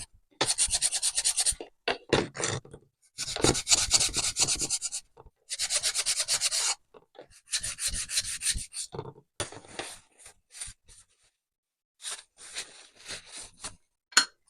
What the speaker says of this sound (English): You just want to give it a good sanding.